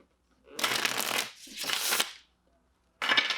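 Tarot cards being shuffled in three bursts of riffling and sliding, close and crisp, the first two long and nearly back to back, the last one short after a brief pause.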